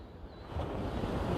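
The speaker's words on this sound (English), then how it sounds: "you can hear the waves behind me" Steady wash of surf rolling in, a broad continuous roar that swells slightly louder partway through, with some wind buffeting the microphone.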